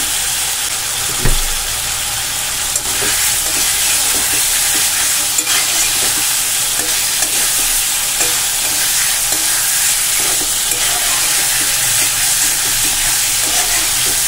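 Paneer cubes stirred and fried on a medium flame, giving a loud, dense, unbroken sizzle that runs throughout, with faint spatula scrapes underneath and no speech.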